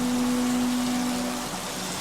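Steady rain falling, a soft continuous hiss with a faint tonal hum underneath, no voices.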